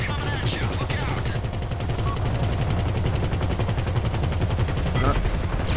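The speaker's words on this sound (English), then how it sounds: "It's not that easy aiming the minigun, you know." A minigun in Grand Theft Auto V keeps up a loud, dense, unbroken rattle of rapid fire close by. It runs for several seconds while voices talk underneath.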